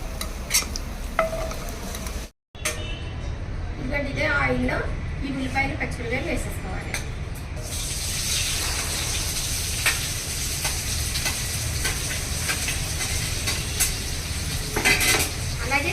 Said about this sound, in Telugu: కరివేపాకు కూడా వేసేసుకుంటే కరివేపాకు కూడా ఈ ఉల్లిపాయలతో పాటు వేగి బాగుంటుంది